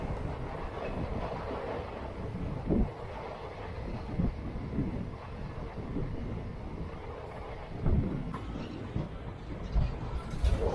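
Narmada Express passenger train (number 18233) rolling along the rails into Khongsara station, a steady rumbling drone with occasional clacks and thumps from the wheels, heard from inside the moving train.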